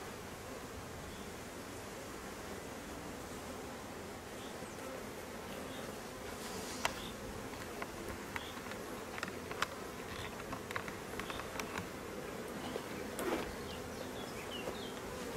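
Honeybees swarm at an opened beehive after swarming, a steady close hum that fills the scene, with faint clicks and bumps from the hive being worked and no talking.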